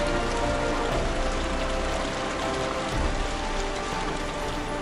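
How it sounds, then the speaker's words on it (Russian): Heavy rain pours down in a steady, dense hiss on a remote taiga beach during a fishing trip, a constant loud downpour for the whole stretch with no talking. "А дождь такой еще ливень, прям неприятно."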